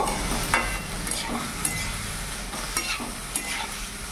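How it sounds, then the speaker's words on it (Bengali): Ash gourd pieces with salt, turmeric and slit green chillies are stirred in a hot pan, a close, steady low sizzle broken by soft scraping strokes of a spatula every second or so. "ভালো করে নাড়াচাড়া করে মিশিয়ে নেব।"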